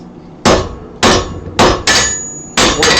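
Hammer blows on hot metal at a forge while shaping a soapstone holder: five loud, close, ringing strikes at uneven intervals, each sharp hit followed by a short decaying ring, with no talk.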